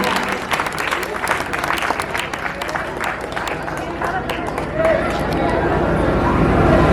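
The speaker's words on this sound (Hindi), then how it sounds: "हमारे प्रधानाचार्य जी के स्वागत के लिए जोरदार तालियां हो जाए, जोरदार तालियां" Loud, sustained clapping from a school crowd welcoming teachers and the principal at a Teachers' Day event, dense and continuous for several seconds, rising slightly toward the end with some crowd murmur beneath.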